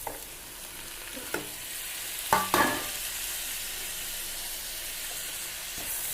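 Lunch ingredients sauté in a pan with a continuous sizzling hiss, broken by a few louder stirring scrapes and bursts near the middle; no one speaks.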